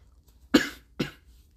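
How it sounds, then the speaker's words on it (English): A person coughs twice in quick succession, short sharp bursts fairly close, with quiet between and no talking. "I'll just keep coughing a lot."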